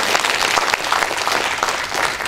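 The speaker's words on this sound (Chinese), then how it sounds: "我们给李吉颖飞马一个热烈掌声好不好？" Warm, dense applause from a seminar audience, a steady wash of many hands clapping close and loud, swelling slightly in short pulses with no talk over it.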